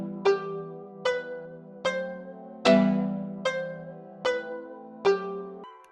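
A beat played through a halftime plugin effect, slowed into evenly spaced tonal hits about every 0.8 seconds with ringing decays, one heavier accented hit midway, loud and alone.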